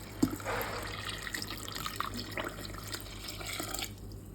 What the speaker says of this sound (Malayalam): ഇനി ഈ പാത്രം ഒന്ന് കഴുകി, അതായത് ഇതിനകത്ത് കുറച്ച് വെള്ളം ഒഴിച്ച് അതും കൂടി ഇതിനകത്ത് ഒഴിച്ചു കൊടുക്കാതെ